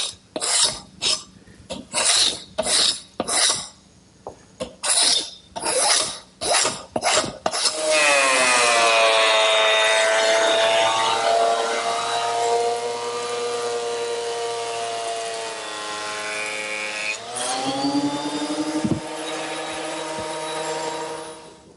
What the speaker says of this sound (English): a 12-inch surface planer, which is where I want to go next, smoothing up the top and bottom surface